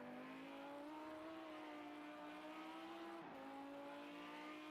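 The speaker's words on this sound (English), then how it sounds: "Sounds very similar to the Audi R8, so it's obviously to hint that it is a 10-cylinder" A Lamborghini V10 race car engine in a GT3 racing video game holds a high, steady whine with a brief dip and shift in pitch partway through, faint and continuous throughout.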